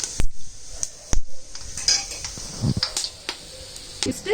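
Bay leaves, cinnamon, star anise and cardamom for chicken biryani go into hot oil and ghee in a pan. Sharp metallic taps and clinks of a utensil against the pan sound close by, with a faint sizzle underneath.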